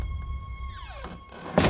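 A door swings and thuds shut at the end, after a faint creaking slide and beneath a steady tonal hum in an indoor setting, with no voices.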